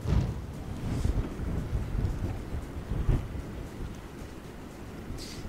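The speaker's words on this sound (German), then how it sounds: "Hier fängt es an zu regnen." Rain and a thunderstorm over Tolkamer on the Rhine during a severe storm with wind and hail, heard as a steady broadband wash of rain with low rumbling thunder swelling near the start and again around the middle, no voices.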